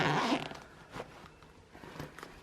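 A square zipper pocket on a carry-on travel bag is pulled open with a brief scratchy zip at the start, followed by faint rustling and small handling clicks nearby.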